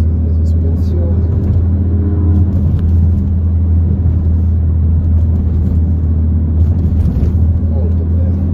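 A Ford C-Max drives over dips in the road, its suspension working under a constant heavy low rumble of tyres and engine, with small bumps and knocks scattered across the run.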